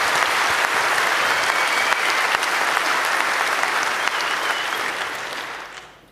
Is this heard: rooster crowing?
no